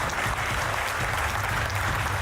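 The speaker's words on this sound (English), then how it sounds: "I think we deserve a clap for Africa." Dense, even applause from an audience at an African Development Bank high-level plenary, a close, sustained wash of many hands clapping with no pauses.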